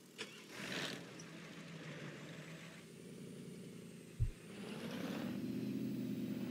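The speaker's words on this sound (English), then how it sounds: "Let's start the engine." Truck engine in American Truck Simulator: a low, steady engine drone with a brief thump near the end, then a louder rumble as it settles into idling, no speech.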